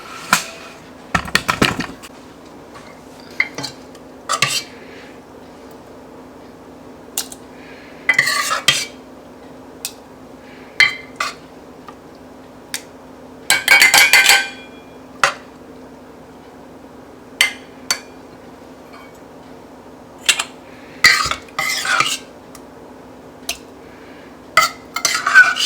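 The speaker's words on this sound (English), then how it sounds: "let's fill up the rest of these jars" Canning jars are filled with homemade peach butter for waterbath canning: scattered clinks of a metal spoon against glass and scraping from a pot, brief bursts separated by quiet pauses, close up with no talking.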